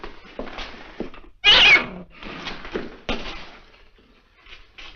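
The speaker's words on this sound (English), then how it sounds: "Our cat had kittens and they're all over the place." A house cat that has recently had kittens gives one loud, close meow amid quieter indoor rustling and faint sounds, with no speech.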